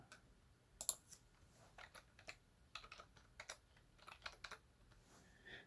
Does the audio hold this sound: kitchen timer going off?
no